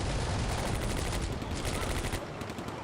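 Dense, continuous rifle and machine-gun fire from soldiers in Combat Mission: Beyond Overlord rattles loudly and without a break, with overlapping bursts and no voices.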